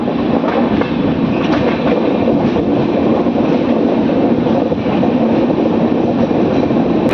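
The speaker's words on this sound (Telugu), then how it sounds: "జనగాం స్టేషన్కి మన ట్రైన్ చేరుకుంది" The Sirpur Kaghaznagar–Secunderabad superfast express rolls into Jangaon station, its wheels and carriages making a loud, continuous rumble with rhythmic clicks over the rail joints, heard close from on board.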